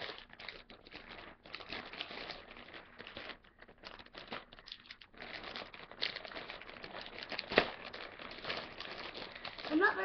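Packaging around a Webkinz plush toy being cut and torn open, giving steady close crinkling and rustling for the whole stretch, with a sharper crackle near the end and a voice faintly underneath.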